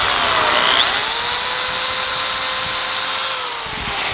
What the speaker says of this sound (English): each one of these screw holes have to be individually drilled